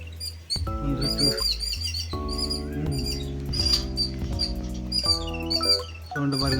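Several sparrows at a house doorway chirp rapidly and overlapping, close and lively, over a steady background of other tonal sound.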